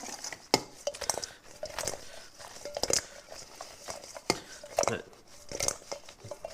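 Air-fried chicken wings being tossed in buffalo lemon pepper sauce in a bowl, irregular clinks and scrapes of utensils against the dish with wet slaps and short pauses between them.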